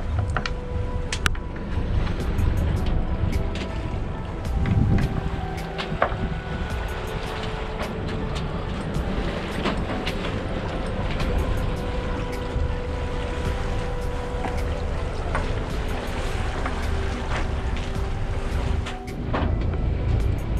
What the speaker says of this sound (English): we've left Daniels Bay and we're sailing back to Teia